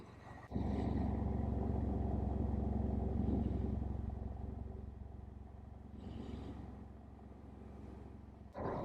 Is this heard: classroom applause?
no